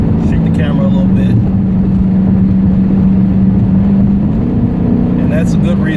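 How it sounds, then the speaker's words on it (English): A Dodge Challenger with a Hemi V8 accelerates nearby, a loud, sustained low engine roar building through the run, with brief talk at the start and end. "give a nice little bit of acceleration"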